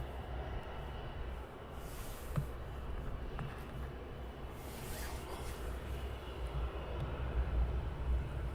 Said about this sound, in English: which will be a Ryanair going out